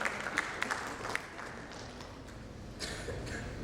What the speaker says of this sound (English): A big round of applause to Mr. Abhay for his wonderful contribution